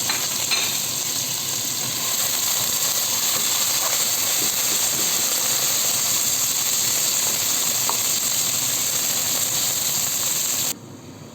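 Meat sizzles and fries steadily in a pan with cabbage, a continuous close hiss and crackle that holds level, with a few faint scrapes and clicks, then drops slightly at the very end.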